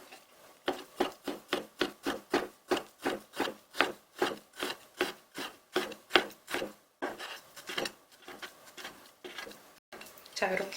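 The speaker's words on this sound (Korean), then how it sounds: "그 다음에 채를 썰어줍니다." A knife slices vegetables into thin julienne strips on a wooden board while a cook prepares Chinese-style water dumplings. About twenty crisp, evenly spaced strokes land close and loud, turning into quicker, busier cutting near the end.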